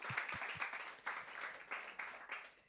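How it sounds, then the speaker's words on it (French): A church congregation claps briefly at a service, a few scattered bursts of applause rising and fading, fairly faint and somewhat distant. "on peut les applaudir"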